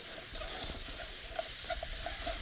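Ginger stir-frying in a hot wok, a quiet close sizzle with soft scraping and tossing noises over a steady hiss.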